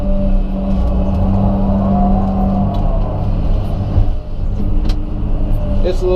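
A Komatsu PC200 excavator digs out a tree stump, its diesel engine droning loud and close with shifting revs, plus occasional clunks and scrapes from the bucket.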